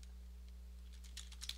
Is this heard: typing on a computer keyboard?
yes